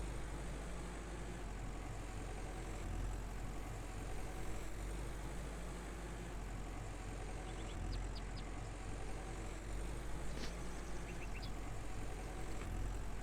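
Large tractor engine in the video game Farmer's Dynasty, running with a steady low idling rumble throughout, with a few faint high clicks over the top.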